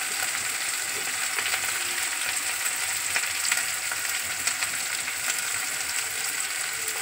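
Onions, tomato and green chillies with turmeric and salt fry in a pan, giving a continuous close sizzle with faint crackles and occasional stirring scrapes, with no talking.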